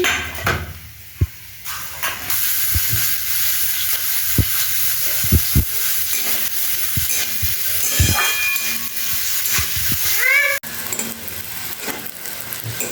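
Chopped onions go into a pan with cumin and garlic for a chicken stew, giving a steady close hiss of frying broken by sharp clinks of a utensil against the pan.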